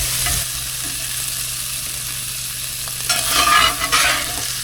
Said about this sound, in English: that meat's browning up nicely